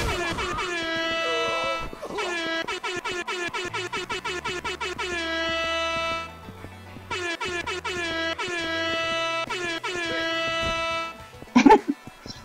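A loud air horn in the video game Yakuza 3 blasts repeatedly in quick, rhythmic honks, forming two long runs with a short gap, ending with a brief voice.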